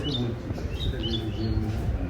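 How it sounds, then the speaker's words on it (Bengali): Small birds give short, high chirps and tweets near a silk cotton tree behind a house, faint and scattered over a low background murmur. "অপূর্ব, সারাদিন পাখির ডাক শুনতে পাওয়া যায়"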